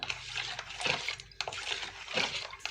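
Tap water from a kitchen faucet poured while preparing pickles, a steady splashing, sloshing stream heard up close, with brief surges in flow and no talk over it.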